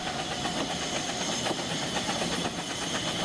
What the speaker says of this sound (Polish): Nasz pociąg zbliża się do wiaduktu Hollerbach.